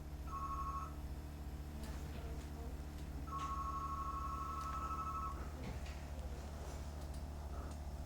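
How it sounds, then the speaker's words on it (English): An electronic phone tone rings twice, first as a short burst and then as a longer steady one, fairly faint against a constant low hum in an indoor interview setting. "Is that my phone, son?"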